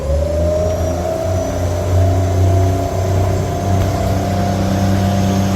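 Steady whine and hum of a Briggs & Stratton electric outboard motor powered by a LiFePO4 battery, running at high speed on a boat, loud and continuous with a faint rising tone and no voices.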